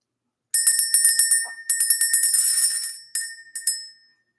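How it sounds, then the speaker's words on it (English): A small bell is rung in quick repeated strikes, bright tinkling rings in bursts with short pauses between, close and clear in a quiet room. "Let's go ahead and ring the bell."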